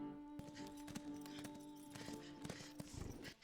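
Hooves clip-clop in a steady walking rhythm, close and fairly quiet, with a low steady hum underneath.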